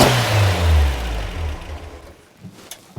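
An MR2 engine revs hard on a two-step launch limiter and then drops off, with a rough, loud mid-range roar fading into popping and crackling near the end.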